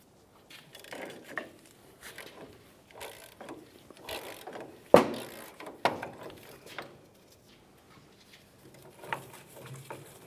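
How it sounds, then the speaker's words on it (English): Ball joint press being tightened on the upper control arm of a 2004-2015 Nissan Titan, giving scattered mechanical clicks and ratcheting patter with a sharp pop midway and another smaller snap shortly after. "continue tightening until the ball joint makes its way up and through the control arm into your cup"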